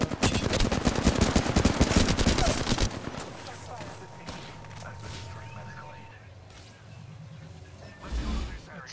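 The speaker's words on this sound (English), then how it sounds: "you're getting shot at" Rapid automatic gunfire from the Apex Legends video game during a supply ship fight, loud and dense for about three seconds, then fainter scattered shots and game sounds under quiet talk.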